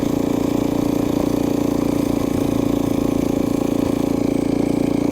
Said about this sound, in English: Oh man, the NVH is insane with this engine.